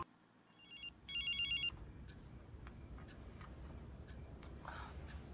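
A telephone rings in a horror short film: a couple of bright electronic ring bursts in a quiet room, the second louder and longer, followed by soft rustling and faint ticking.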